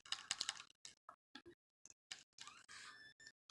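Someone types on a computer keyboard in short, uneven bursts of crisp, close keystrokes separated by brief pauses, with no voices.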